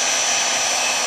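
Heat gun blowing hot air to shrink heat-shrink tubing on a wire during repair of a 1927 Atwater Kent Model 37 radio, a steady close, loud whooshing hiss throughout.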